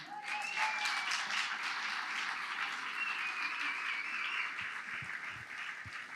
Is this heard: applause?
yes